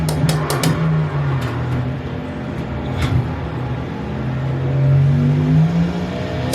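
A big V8 race car engine at Daytona drones and rises under acceleration, a steady loud in-car roar with climbing pitch and a few brief clicks.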